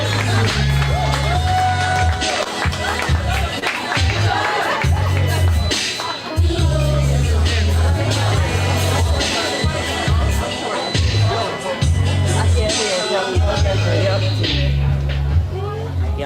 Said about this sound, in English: Keep snapping, keep clapping, keep snapping all the way from Philly.